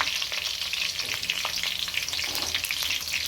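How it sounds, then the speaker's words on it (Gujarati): Brinjal and cauliflower pieces deep-fry in hot oil, giving a steady close sizzle and bubbling crackle with no voices. "રવૈયા અને ફ્લાવર આપણું અહીંયા તળી ગયું છે"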